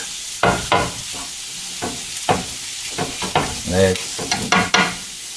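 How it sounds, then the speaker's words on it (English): Potatoes fry in a pan with chipotle-bound tinga poblana as a spoon stirs them, producing repeated scraping strokes over a steady sizzle, close and fairly loud, with brief pauses between strokes. "So you mix that in, mix that in, mix that in."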